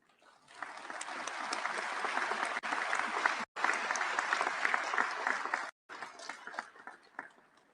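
A large assembly hall of delegates at the World Health Assembly in Geneva bursts into sustained applause for the election of its President, broad steady clapping with two brief cuts before it tapers off.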